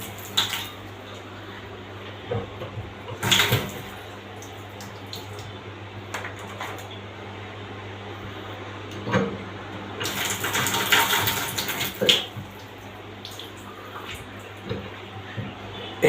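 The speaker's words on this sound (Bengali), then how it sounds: "পানি আসতেছে বাথটবে।" Water runs into a newly installed and connected bathtub with a steady low wash, broken by several sharp bursts of splashing and clattering; no one speaks.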